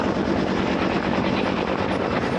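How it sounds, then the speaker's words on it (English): Firefighting helicopters making water drops over a fire, heard as a loud, steady rotor roar and broad turbine rumble that fills the whole stretch without pause. "helicopters join the fight with well-targeted water drops"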